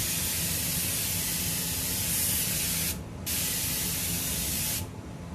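An airbrush sprays paint in short speckling bursts, a steady close hiss that cuts out briefly twice before resuming.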